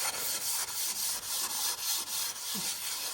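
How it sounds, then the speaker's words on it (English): A gray Scotch pad scrubbing excess hide glue off a damp wooden panel of an antique piece, a steady rhythmic rasping in back-and-forth strokes, close and continuous with no talk. "use a gray Scotch pad to kind of"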